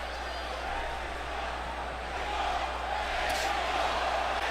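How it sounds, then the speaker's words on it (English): A boxing arena crowd chanting "Mexico" during a 154-pound unification bout, a dense, sustained roar of many voices from a distance with steady rhythmic swells. "And the crowd, Mexico, Mexico, Mexico."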